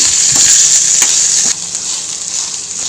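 Brinjal pieces fry in oil for a curry, giving a loud, close, continuous sizzle with a few stirring knocks; the hiss eases slightly partway through.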